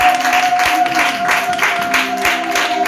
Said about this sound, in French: Acclamons fort pour notre Seigneur Jésus-Christ